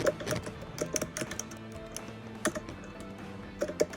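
Rapid keystrokes on a computer keyboard while writing a Python program, close and clear with irregular bursts of clicks and short pauses, no voices.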